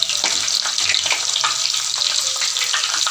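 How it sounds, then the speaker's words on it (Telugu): Stuffed bitter gourds fry in hot oil, a dense, steady sizzle and crackle with small popping bursts throughout, close and fairly loud. "ఇలా ఆయిల్లో వేసుకుందాం. అన్నీ దగ్గరికి కొంచెం బ్రౌన్గా వేయించుకుందాం."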